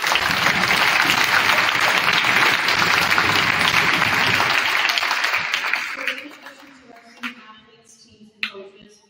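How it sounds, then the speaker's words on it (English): Loud, dense crowd applause at a high school fall athletic awards night. It holds strong for about five seconds, then fades to scattered claps and a few stray sounds. "So one more round of applause for all of us."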